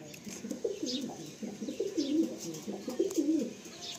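A female pigeon coos in a steady run of soft, throaty, warbling calls, close and clear over faint background hiss.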